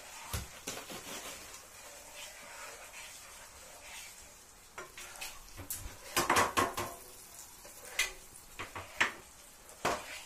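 Banana upside-down cake batter is stirred in a bowl, with scraping and intermittent utensil clinks against the bowl. The clatter grows into louder, clustered knocks toward the end. No one speaks.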